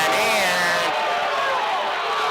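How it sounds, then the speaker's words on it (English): A high school football crowd at a Show Low Cougars versus Round Valley Elks game erupts in loud cheering and whooping, a burst of many voices that swells and then slowly eases off. "Oh, the crowd is going wild."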